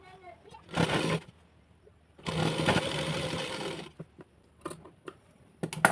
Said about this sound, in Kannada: ಈ ರೀತಿಯಾಗಿ ಫೋಲ್ಡ್ ಮಾಡಿಬಿಟ್ಟು ಇಲ್ಲಿ ಮೇಲ್ಗಡೆ ಬಂದು ಸ್ಟಿಚ್ನ ಹಾಕಬೇಕು